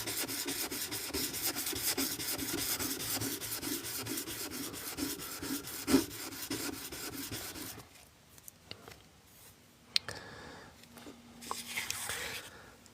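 A cut stone for a Chinese seal is sanded flat in a steady, rhythmic rasping scrape, close and soft, followed by slower strokes and handling noises with faint speech.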